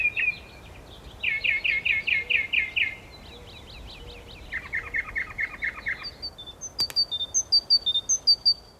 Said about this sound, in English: Once more, birdsong can be heard in the middle of town.